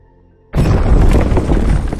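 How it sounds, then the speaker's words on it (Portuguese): A dramatized explosion of the Chernobyl nuclear reactor bursts in abruptly after a moment of near silence, then rolls on as a loud, dense, rumbling roar without any voices. "A tampa de 1000 toneladas que ficava sobre o reator é arremessada para cima por causa da explosão."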